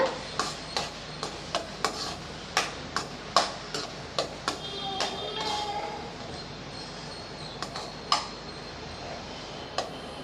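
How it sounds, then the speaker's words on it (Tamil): A utensil scrapes and taps against a pan while stirring a flattened-rice (aval) laddu mixture, quick irregular strokes with sharp clicks repeating over a soft background hiss. "இப்போ இதை நல்லா கட்டி பிடிக்காத அளவுக்கு நல்லா"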